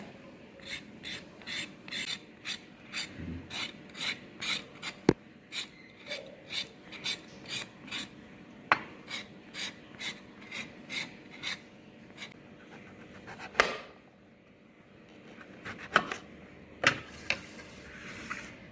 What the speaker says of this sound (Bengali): সমস্ত পটলের খোসাগুলো এইভাবে আমি ছুলে নিয়েছি